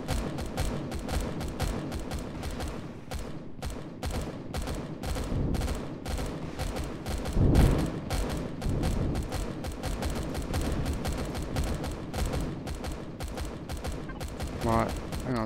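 Missile launches and rapid gunfire rattle continuously through a space combat fight in Empyrion Galactic Survival, a dense, loud barrage of bursts and explosions that never lets up.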